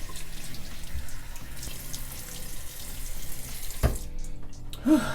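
Running tap water flows steadily into a sink for several seconds while someone rinses off, then briefly cuts out with a soft knock and a short splash at the end.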